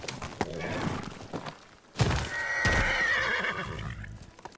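A horse in the video game Ghost of Tsushima gives a loud, close whinny with a rising, wavering cry, set among clip-clopping hooves and a few dull thumps.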